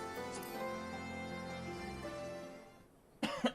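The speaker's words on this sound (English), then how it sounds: "God damn this cough." A character coughs in a Final Fantasy XIV cutscene, a short burst of rough coughs arriving near the end after a stretch of quieter background sound.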